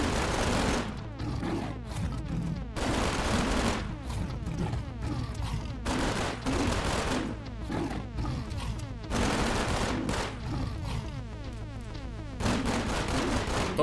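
Soviet APS pistol firing in the S.T.A.L.K.E.R. Gunslinger mod video game: loud, close shots in dense rapid bursts, separated by brief gaps with mechanical clicks and rattles in between.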